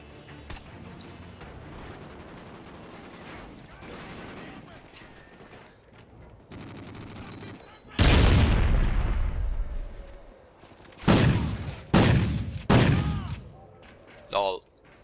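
Shotgun blasts go off in the video game Call of Duty: Ghosts. After a stretch of low game ambience, several loud, punchy shots come in the second half, some in quick succession.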